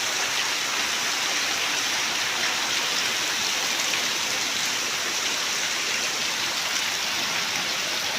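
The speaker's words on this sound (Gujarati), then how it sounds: "સારામાં સારો વરસાદ પડે છે અત્યારે," Heavy rain falls in a dense, steady hiss that stays loud and unbroken throughout, with no voices over it.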